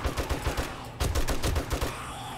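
Rapid bursts of automatic gunfire from a first-person zombie survival game, 7 Days to Die, during a massive horde night, loud and close with dense rattling shots and no talk over them.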